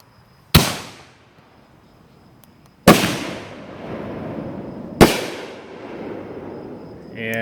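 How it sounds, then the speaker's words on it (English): Excalibur canister shell and single-shot tube fireworks launching outdoors: three sharp, loud booms spaced about two seconds apart, each trailing off into a lingering rumble. "we're going to start off Excalibur, followed right after with the single shot tube."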